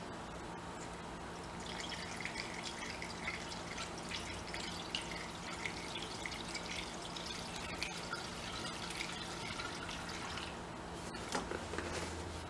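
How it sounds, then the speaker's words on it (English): Water from a jug pours into the radiator of an old MG TD barn-find car, a steady close trickling and splashing flow with faint drips running continuously. "I hear fluid running, and I can see it sitting on top of the radiator"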